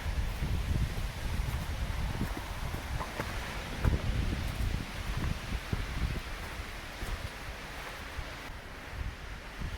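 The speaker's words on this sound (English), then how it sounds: "I think it's gonna be a windy day." Steady gusty wind sweeps through a winter spruce-fir forest in the Blue Ridge, leaves rustling continuously with a broad airy roar and occasional louder gusts, no voices.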